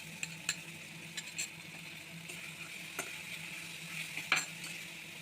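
Prawn curry with milk cream is stirred in a pan: a soft, continuous sizzle with a spoon scraping and occasional light clicks against the metal, quiet and close.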